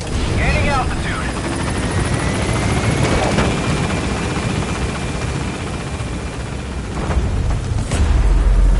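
Helicopter rotor and engine roar in the game Metal Gear Solid V as the aircraft lifts off and gains altitude, a loud steady wash throughout with a rising whine; a voice talks briefly near the start.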